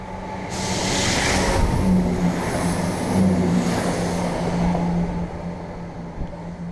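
A train passes along the shore at Broughty Ferry on a cold day, a broad steady rumble that swells, holds for several seconds and then slowly fades, with no talk over it.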